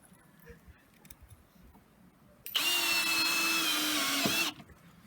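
A power drill drives a screw into a new dock board, a loud steady whirring burst of about two seconds that starts abruptly and cuts off, after quieter handling sounds.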